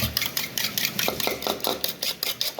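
Spoon scraping and stirring in a pot as salt and sugar are mixed into a home-cooked vegetable dish, a quick run of rhythmic metallic clinks and scrapes, close and fairly loud, with no talking.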